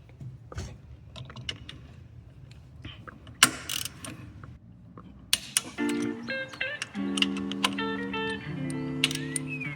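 Wrench tightening bolts deep inside a 2014 Mazda 3 during a short shifter plate install, heard as scattered metallic clicks and ratcheting taps, close but fairly quiet, with other clinking tool sounds.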